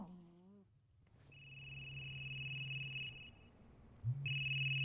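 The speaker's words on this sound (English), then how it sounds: "Somebody need to answer their phone." Android mobile phone ringtone playing in a room: steady electronic tones repeating in two long bursts with a brief gap between, moderately loud and unaccompanied by speech.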